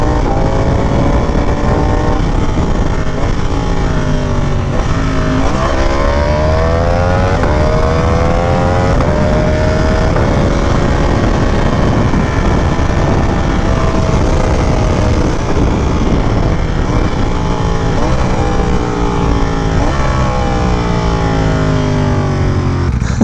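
A 2022 Ducati Panigale V4S ridden hard in race mode, its loud engine note climbing through the revs and dropping at each quick gearshift, several rising sweeps in a row, close and continuous.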